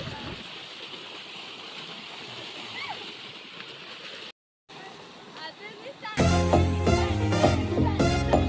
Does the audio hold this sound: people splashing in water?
yes